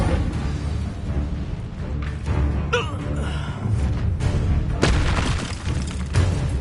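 An Incendio fire spell cast in the Hogwarts Legacy video game: heavy, booming blasts over a dense roaring rumble, loud and close, with sharper bursts rising partway through and no speech.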